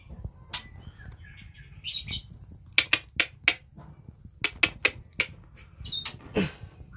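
A prize-winning male songbird with a tail of about 15 cm calls in short sharp chirps and clustered bursts, separated by soft fluttering and rustling, heard fairly close in a quiet setting.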